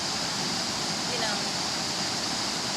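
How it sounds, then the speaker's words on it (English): Mashel River flowing beside a hiking trail in Washington State, a steady broadband rush of moving water that fills the whole clip at close range, with no clear voices over it. "the trail goes along the Mashel River, and there are points where you can access the river and dip your toes in"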